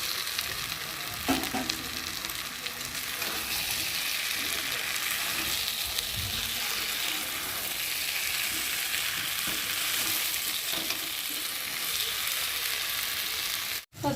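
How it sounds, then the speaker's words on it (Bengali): Fried potatoes tossed into spiced mutton curry for kosha mangsho, frying with a continuous sizzle and occasional scraping stirs in the pan throughout, ending with a brief cut, no voices. "আর এখন আমি ভেজে রাখা আলুগুলোকে দিয়ে আর একটু কষিয়ে নেব।"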